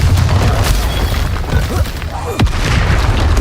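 A Confringo blast in Hogwarts Legacy lands amid dense, loud spell combat, its booming burst mixed with other magical impacts and crackling effects throughout.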